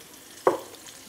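Beef hits a hot pan of frying onion and garlic with a single sharp, close sizzle that flares and quickly settles into a soft crackle.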